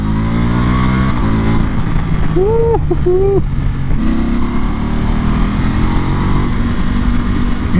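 A Ducati Multistrada motorcycle engine runs loud and close, its steady rumble rising and falling through short revs, with a brief rising whine partway through.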